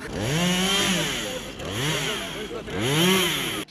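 A petrol chainsaw runs loud and close during a neighbourhood cleanup day, its engine swelling and easing in three repeated revving cycles with no talk over it.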